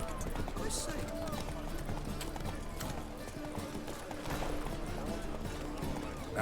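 Hooves of Roach, a horse in The Witcher 3 video game, clop along steadily at a quick pace beneath game ambience, with voices talking over it.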